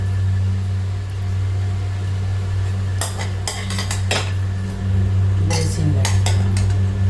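Poriyal being scooped from a pan into a basin, heard as clattering spoon and metal scrapes in short bursts over a constant low hum, close by.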